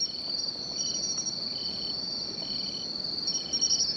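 Katydids and bell crickets found along a roadside at night chirp steadily and continuously, a dense high trilling with repeated pulsing calls layered on top, fairly close and with no voices.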